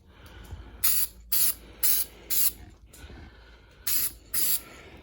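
A spray gun lays down a base coat of paint in six sharp, loud hissing bursts, each about half a second long, separated by short quiet gaps.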